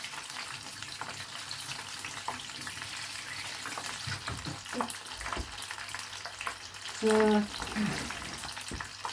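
Fresh tofu pieces fry in a pan with a continuous, close sizzle and crackle, while a voice speaks briefly over it.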